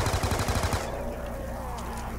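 Rapid automatic LMG fire in a zombies video game, a quick burst of evenly spaced shots for under a second, followed by a fading ringing tail.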